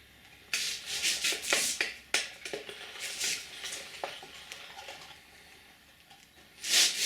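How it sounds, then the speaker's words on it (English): Sand thrown and packed into a small engine muffler casting mold, heard as a series of gritty rubbing and pouring bursts at close range, irregular and separated by short pauses, with a louder hiss at the end. "we're going to throw some sand in"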